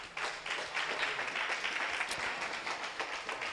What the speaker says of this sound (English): clap your hands for God